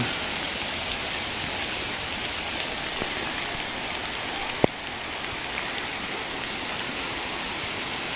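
Steady light rain falls in Kabupaten Barru, South Sulawesi, a continuous hiss of drizzle near a drainage channel, with one sharp brief tap midway and no voices.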